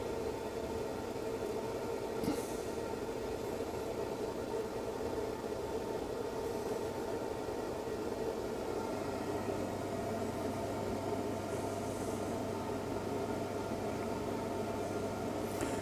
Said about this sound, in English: The fan noise you can hear is my air extraction